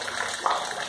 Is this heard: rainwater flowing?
yes